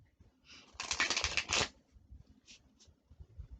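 Tarot cards riffled in a quick shuffle, a dense crisp burst of about a second in a quiet room, followed by a few soft card taps.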